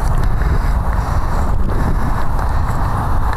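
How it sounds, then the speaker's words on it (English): Heavy wind buffets the microphone outdoors at a model glider flying field, with a constant low rumble and gusty roar throughout, no voices present. "Windy out here, damn."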